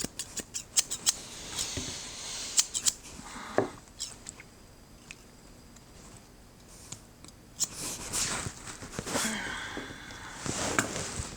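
Groomer shears being test-cut give quick crisp snips in irregular bursts, close and fairly quiet, with pauses of near silence between clusters of blade strokes.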